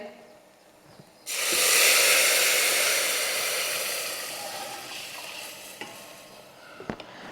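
Boiled milk, about a litre, poured into roasted vermicelli in a hot pan for kheer. A sudden loud, steady hissing sizzle bursts in after a quiet second, then slowly fades, with a few light clinks near the end.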